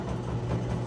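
Oil abrasion testing machine spinning up, a steady low mechanical whir with constant hum that holds even throughout, with no talking.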